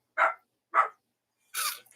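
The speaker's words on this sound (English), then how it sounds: "And he's gonna bark." A dog named Blazer barks three times, each a short, sharp, close bark separated by brief silences, with no talk over it.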